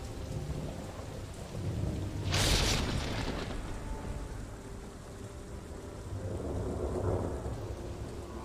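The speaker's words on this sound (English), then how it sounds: "Storm clouds bring the promise of needed rain." A thunderstorm breaks at the end of a long dry season, with steady rain falling throughout, a sharp thunderclap near the middle and a softer rolling rumble toward the end.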